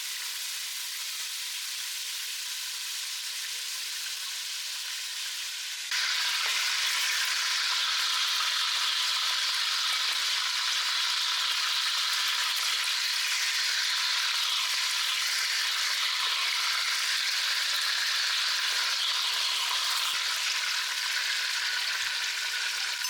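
Wild beef pieces fry in a pan for a Hungarian dish, a constant hiss that grows noticeably louder after a few seconds and then holds steady, with no talking.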